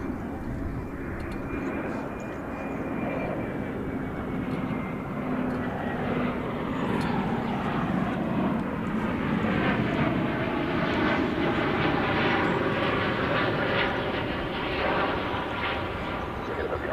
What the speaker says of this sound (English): UPS Flight 768, the MD-11, coming in from Louisville